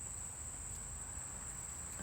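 Crickets chirping in a steady, continuous high-pitched trill over a low background rumble, with no voices.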